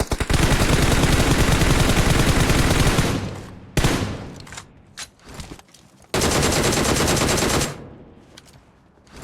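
Gunfire in the PUBG Mobile video game: loud, close bursts of rapid automatic fire, a long sustained burst, a few scattered shots, then another long burst that cuts off.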